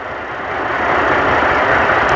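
A truck engine idles during a CDL Class A pre-trip inspection, a steady low throbbing rumble that swells slightly and then holds loud and close, with no voices over it.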